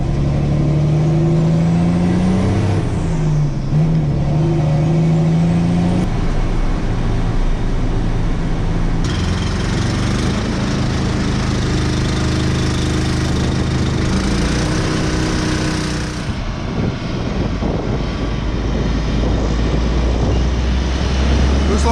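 A farm sprayer truck with a straight pipe exhaust, its engine a loud, continuous close rumble with rising and falling revs and a droning tone early on, steady throughout the run.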